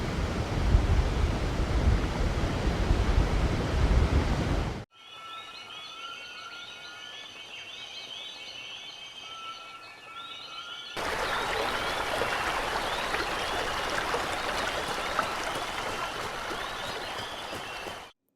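Rushing river water from a video game plays as steady broadband flowing noise, loud at first, then giving way to a quieter stretch with chirping, then swelling back to a full rush.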